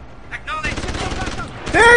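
Rapid gunfire in Deus Ex: Human Revolution, a burst of repeated shots rattling over about a second, followed by louder game sounds, close and loud with a voice speaking over it.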